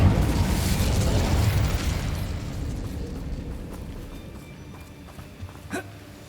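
An Incendio fire spell cast in Hogwarts Legacy, a loud whooshing burst of flame with a low roar that slowly fades, followed by a few small pops and a brief sharp crackle near the end.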